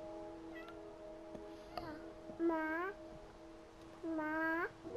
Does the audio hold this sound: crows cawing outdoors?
no